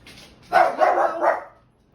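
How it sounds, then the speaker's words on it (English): A dog gives a short burst of three or four quick barks, close and moderately loud, then quiet. "Excuse the dog."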